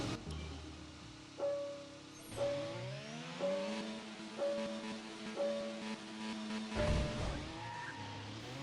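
Racing game engines of F1 cars scream upward through repeated rising gear-shift sweeps as the grid launches from the start, loud and layered with several cars, a tire-squeal-like screech near the end.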